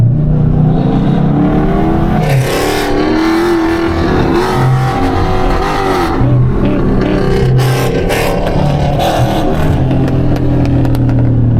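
A loud Dodge Scat Pack muscle car engine rumbles and revs continuously close by, its idle pulsing unevenly with a choppy cam lope.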